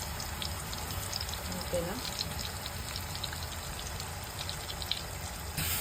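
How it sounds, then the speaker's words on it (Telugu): Onion paste frying in oil in a pan, a constant low sizzle with faint stirring scrapes, while a person speaks briefly in Telugu over it. "ఉల్లిపాయ పేస్ట్ వేసేస్తాను. అది బాగా వేగేదాకా మనం కొంచెం తిప్పుకుంటూ ఉండాలి."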